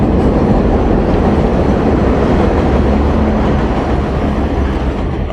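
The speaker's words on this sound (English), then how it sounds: "Here comes another beautiful train." A train rolls past close by, a loud, steady rumble and clatter of several cars that fills the whole stretch without a break.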